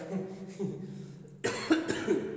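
A single sharp cough bursts out after a moment of quiet murmuring, close and fairly loud.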